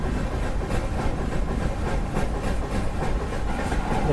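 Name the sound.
high-speed train running, crossing a diesel locomotive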